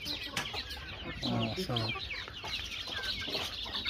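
Local desi chickens kept in home-built cages cluck softly nearby, with a few louder calls rising and falling over a low, steady background.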